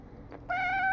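A cat gives a single clear, drawn-out meow, close and loud in a quiet indoor room.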